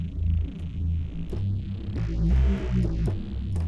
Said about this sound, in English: which is going to double up as like a synth bass / pad.